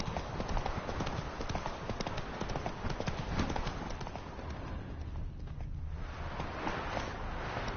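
Roach, the horse in The Witcher 3, clip-clops at a steady running gait, the hoof beats close and continuous under faint game ambience, with no talk.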